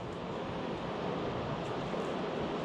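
Water from a lake rushes through a spillway pipe as a steady, dense roar, broad and unbroken for the whole stretch with no voices over it.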